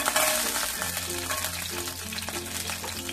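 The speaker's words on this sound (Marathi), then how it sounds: "बघा, चिरलेला लसूण छान परतलाय" Chopped garlic fries in hot oil in a pan for veg momos, giving a steady bright sizzle that runs continuously, with faint pan sounds and a few tonal notes beneath.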